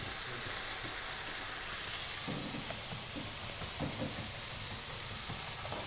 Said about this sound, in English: I'm just going to move them to our biggest burner so they've got a chance to fry nice and fast